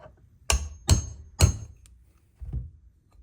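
Three sharp, close hammer blows strike a small metal punch to mark a gear near the spindle, evenly spaced, followed after a pause by a softer fourth tap.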